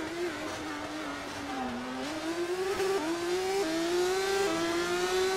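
A GP3 race car on slick tyres laps a wet track in qualifying at the Russian round, its engine whining steadily and climbing in pitch through several gear changes, close and continuous with no talk.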